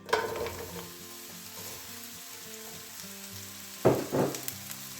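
Mushrooms fry in olive oil over high heat, giving a steady sizzle under a musical background, with a couple of louder stirring clatters near the end.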